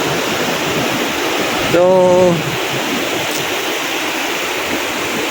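Strong sea waves churn in a steady, loud, wash of surf noise throughout, with a single short spoken word partway through.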